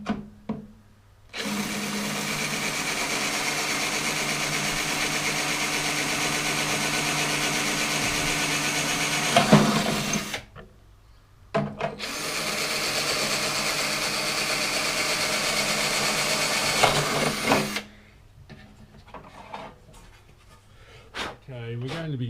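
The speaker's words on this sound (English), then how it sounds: "I can now drill that into the fiberglass" Power drill boring two holes into a fiberglass motorcycle seat pan for an XS1100 cafe racer, two long steady bursts of whirring drilling close by, separated by a brief pause, with workshop noise around them.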